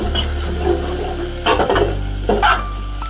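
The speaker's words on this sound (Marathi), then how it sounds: "आपले टमाटे चरबी गुर्दा मस्त फ्राय झालेले आहे तेलामध्ये" Tomatoes, fat and goat kidney fry in oil for a mutton curry, a loud close sizzle with a low steady hum beneath and a couple of brief stirring scrapes.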